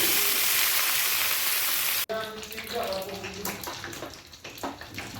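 Onion frying in hot oil for a home dal tadka with bedgi chilli and bay leaf, a loud steady broadband sizzle for two seconds, then a sharp cut to quieter, uneven crackling and stirring clatter.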